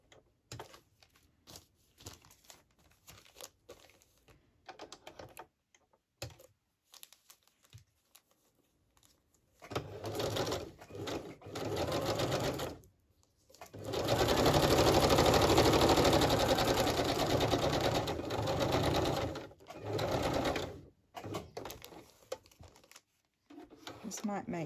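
A sewing machine stitches a fabric tag, running in several whirring bursts, the longest lasting several seconds, between quiet stretches of faint handling clicks and rustles.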